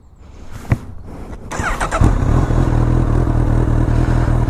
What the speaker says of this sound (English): But I'll start her up anyway.